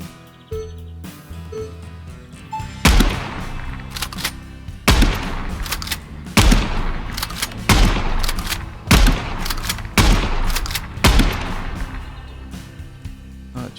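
Gunfire from a one-magazine challenge in Gunsmith Simulator with a Colt M1911 pistol: a quick lone shot or two, then a run of sharp, loud reports spaced about a second or more apart, each ringing briefly before the next.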